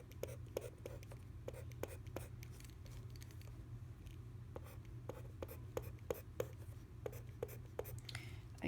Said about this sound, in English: I'm going to write my mini place value chart.